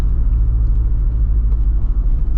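A Jeep Wrangler Rubicon 392 with an AEV kit and V8 engine cruises along, its deep steady rumble and low drone filling the cabin continuously without any voices.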